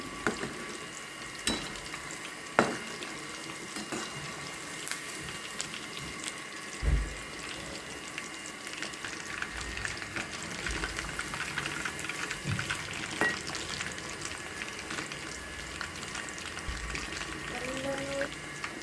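Chicken kebab pieces frying in a pan and being turned, a steady broadband sizzle with occasional scraping knocks from the utensil; a voice murmurs faintly underneath.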